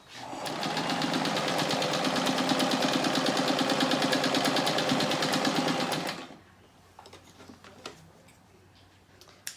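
A sewing machine runs a steady, fast stitch along a quarter-inch quilt seam around a center block, loud and continuous for about six seconds before stopping abruptly, leaving quiet handling noises.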